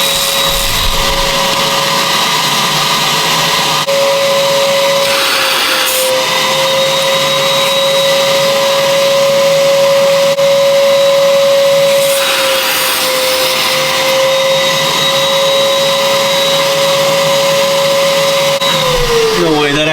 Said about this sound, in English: You used a vacuum and you put it in the fueler neck